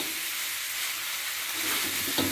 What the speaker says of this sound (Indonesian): Kita aduk sampai benar-benar tercampur rata semuanya